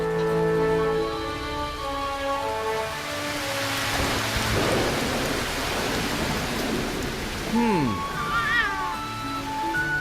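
Pouring rain with thunder used as a storytelling sound effect: a broad rushing wash swells through the middle, mixed with sustained tonal sounds and a rising, meow-like cry near the end.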